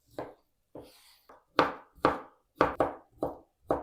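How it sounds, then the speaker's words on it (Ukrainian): A knife chops boiled beetroot into small cubes on a cutting board in a series of irregular, crisp thuds, each short and close, with brief gaps between strokes. "І тепер його нарізаю невеличким кубиком."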